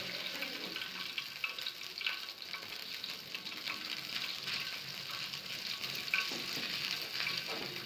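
Coral fish frying in hot oil, a steady dense sizzle that holds evenly throughout at moderate level, with no voices.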